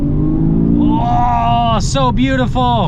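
A Porsche Boxster GTS 4.0 with a flat-six engine revs loudly and steadily nearby, its pitch climbing and dipping between blips, while someone speaks admiringly over it.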